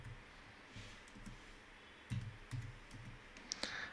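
Typing on a computer keyboard: short runs of soft, close key clicks come in quick bursts over faint room noise, with no one talking.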